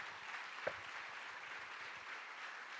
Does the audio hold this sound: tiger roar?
no